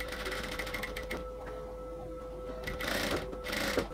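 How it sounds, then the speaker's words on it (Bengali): A sewing machine topstitches close along the edge of a nighty neckline, a quiet steady mechanical hum with rapid needle chatter in short bursts, slowing in places and picking up again near the end. "একদম কিনারা দিয়ে চাপ সেলাইটা দিচ্ছি।"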